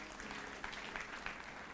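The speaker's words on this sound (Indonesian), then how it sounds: "kasih tepuk tangan untuk Tuhan Yesus" A church congregation, standing during a sermon, claps for Jesus in a steady, dense burst of applause that fills the room for a couple of seconds at moderate loudness.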